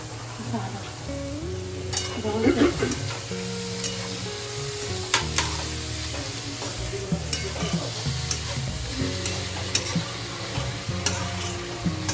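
Onion and dried shrimp (jawala) fry in hot oil with a steady sizzle, while a utensil stirs and scrapes the pan in short bursts, close by, over background music.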